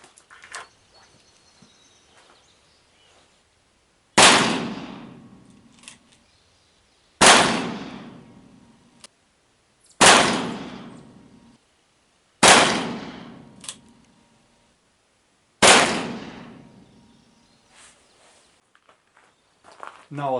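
Five sharp gunshots from an 1858 Pietta revolver fitted with a .45 Long Colt cartridge conversion cylinder crack out at irregular intervals of a few seconds, each loud and near with a short decaying ring outdoors. Faint background sounds fall between shots.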